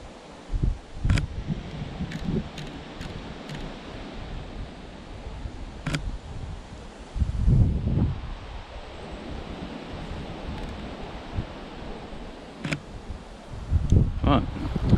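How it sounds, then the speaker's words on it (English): Wind rushes across open water where small waves lap and ripple, a steady breezy roar with occasional louder gusts and low thumps of wind buffeting the microphone. "the wind's definitely picking up, which is always nice. Not a little bit of ripplage on the water."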